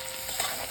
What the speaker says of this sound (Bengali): পেঁয়াজটা বেশ ভালোভাবে ভাজা হয়ে গেছে, পেঁয়াজ থেকে তেল ছেড়ে গেছে